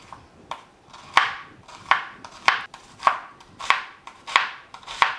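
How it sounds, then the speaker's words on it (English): A knife dices an onion on a cutting board, about ten crisp, evenly spaced chops close by with a quiet pause between strokes, no voices. "One of the onions is diced."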